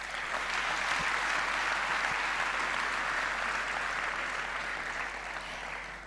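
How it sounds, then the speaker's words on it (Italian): An audience at the CNA Emilia-Romagna regional assembly applauds award-winning business owners, a dense, steady wash of clapping from a large hall that holds loud and even throughout and only starts to thin at the very end. "Un applauso per loro."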